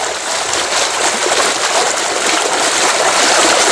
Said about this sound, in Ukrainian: Ось така водичка йде з башні.